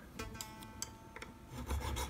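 Starter files rasp across a bone nut on a Stratocaster-style guitar in short, quiet strokes, several scraping bursts coming in an irregular rhythm close up.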